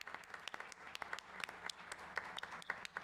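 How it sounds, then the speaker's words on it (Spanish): An audience applauds at a business roundtable on strategy, talent and values, a brief, soft patter of many hands clapping in a room. "Un aplauso a Pesos Pesados"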